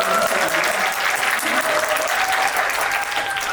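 Dense applause from an audience at a Korean film screening Q&A talk event, steady clapping filling the whole moment with a faint murmur of voices underneath.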